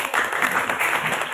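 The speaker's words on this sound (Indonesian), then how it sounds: "Oke, tepuk tangan dong." Classroom of students applauding together, a dense wash of clapping held steadily across the short moment at close range.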